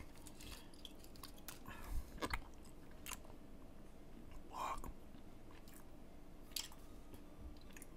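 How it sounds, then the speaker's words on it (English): Close, wet chewing of a strawberry Hi-Chew candy, with soft squishy bites and a few sharper smacks spaced irregularly over faint background game ambience. "Listen to me chew on this high chew candy."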